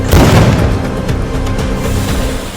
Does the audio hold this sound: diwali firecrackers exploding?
yes